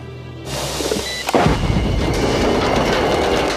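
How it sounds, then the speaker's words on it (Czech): A bomb explodes in the historic centre of Vienna in a TV crime series, one sudden loud boom after a quiet moment, followed by a sustained rumbling roar of debris and noise. "Výbuch bomby v historickém centru Vídně."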